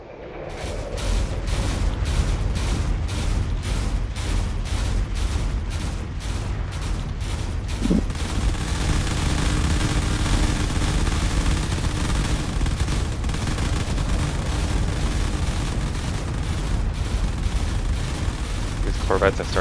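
Cannons and missiles fire in a space battle video game, with rapid repeated shots at first that give way to a continuous loud barrage of booms and explosions throughout, with no talking.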